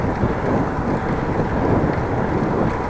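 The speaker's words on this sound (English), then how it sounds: "Still a nice headwind." A headwind roars against the microphone while riding a bicycle on a road, a loud continuous buffeting rush with no talking.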